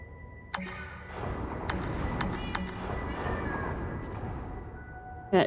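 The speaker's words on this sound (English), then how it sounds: "Why are there cat noises?" A cat meows in the video game Lightmatter. Short, faint meows sound over a steady ambient game hum, with a louder, closer meow right at the end.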